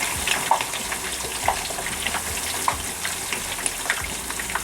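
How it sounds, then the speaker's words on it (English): A whole turkey being slowly lowered into a pot of hot deep-frying oil gives a steady, close sizzle, a dense crackling hiss with scattered sharp pops throughout. "as soon as the turkey hits it, it just starts sizzling up"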